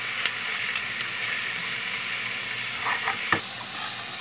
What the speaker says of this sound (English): some of the parts of the pork are turning brown already. That's what you wanna see. And some of the garlic are sticking in the pan already.